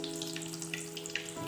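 Bread-and-egg snack pieces fry in hot oil in a pan. A steady, close sizzle runs the whole way, with scattered pops and crackles over a low background hum.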